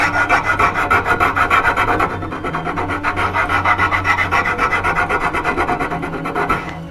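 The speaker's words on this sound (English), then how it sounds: "So we go to our next finest file. And that gets rid of the deep scratches." A hand file rasps steadily across the wooden leg of a curved blockfront lowboy, smoothing out deep scratches in close, even back-and-forth strokes with no talking.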